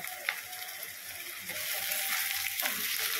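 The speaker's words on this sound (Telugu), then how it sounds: "దాంతోపాటు బాగా ఆయిల్లో ఫ్రై అవ్వాలి." Ginger garlic paste and onions frying in oil for a dhaba-style chicken curry, a soft, steady sizzle with a few sharp scraping clicks from stirring, fairly faint and close.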